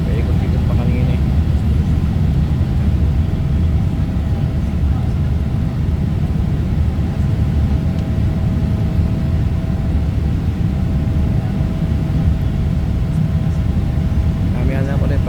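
A small airplane flies through thick cloud over the Philippines, its loud, steady engine drone filling the whole stretch without a break.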